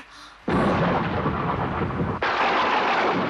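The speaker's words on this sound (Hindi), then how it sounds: "बादल भी गरज रहे हैं।" Heavy thunderstorm with rain: a loud, sustained roar of thunder bursts in abruptly, dips briefly, then surges again over a steady downpour, with no voices.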